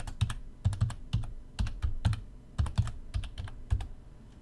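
Password typed on a computer keyboard: a close, crisp run of key clicks in quick uneven bursts, with short pauses between groups and no talking.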